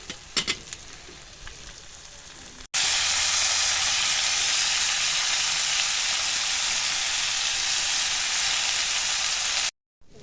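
Potatoes and vegetables fry in a wok with a loud, continuous sizzle that starts abruptly after a few light utensil taps and runs steadily before cutting off.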